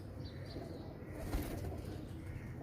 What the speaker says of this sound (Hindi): ये फिरोजपुरी क्रॉस कबूतर है।